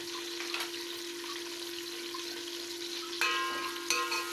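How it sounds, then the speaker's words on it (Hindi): Onions frying gently over low heat in a pan for kadhi give a steady, soft sizzle, with a few brief scrapes and clinks near the end and no voices. "इसको हम लोग जो है ना अच्छी तरह से फ्राई कर लेते हैं।"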